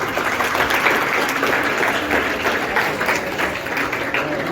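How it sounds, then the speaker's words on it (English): Steady applause from a group fills the space, dense and continuous clapping at a constant level throughout. "Clap for us."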